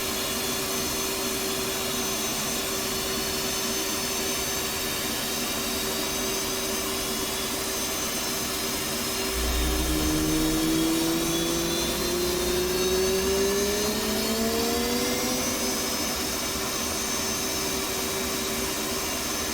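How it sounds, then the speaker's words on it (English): An F/A-18C left jet engine spooling up in the DCS flight simulator: a constant loud cockpit whine and hum, joined midway by a rising turbine tone and a low rumble as the engine winds up. "move the left throttle from off to idle by pressing right Alt Home. This will add fuel to the engine and start the igniters."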